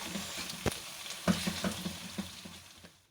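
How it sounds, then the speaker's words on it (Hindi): Mutton keema for aloo keema fries in a pan, a soft sizzle punctuated by several sharp spoon scrapes and knocks as it is stirred, close by and fading toward the end, with no voices. "कीमे को मैं अच्छे से मिक्स कर रही हूँ ताकि कीमा हमारा अच्छे से फ्राई हो जाए।"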